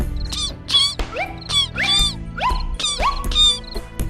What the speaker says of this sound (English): Then he heard the squeaking of a mouse.